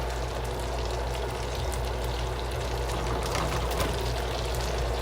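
Cajun shrimp drop into hot butter in a pan, setting off a loud, steady crackling sizzle that runs on without break and sits close up.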